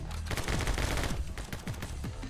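Rapid gunfire in the My Friend Pedro action game, dense bursts of shots crackling one after another at close range, loud and continuous with no talking.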